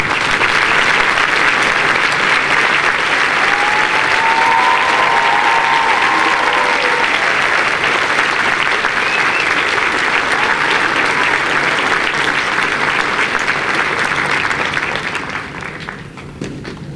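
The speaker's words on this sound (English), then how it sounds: "I'm asking all of you to join me in applauding them for the fine education they have provided" A large audience at a 2010 Upper Iowa University commencement ceremony applauds the faculty with steady, dense clapping that holds for about fifteen seconds before tapering off.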